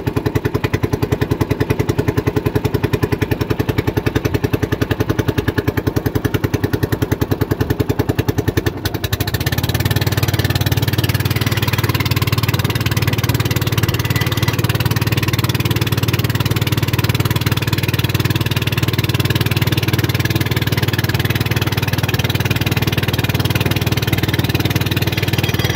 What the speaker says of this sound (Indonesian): Saya mau gas sedikit supaya cepat selesai